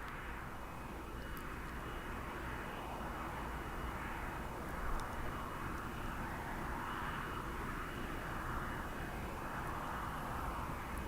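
A large jet, NASA's Shuttle Carrier Aircraft, arriving at Kennedy Space Center, a steady distant engine roar that swells and fades slightly throughout, with no voices.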